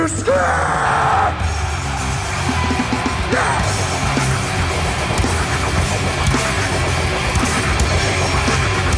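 A huge concert crowd screams and yells at a rock show at Rock in Rio, a loud sustained roar of voices from a vast audience, with a shout cutting through near the start.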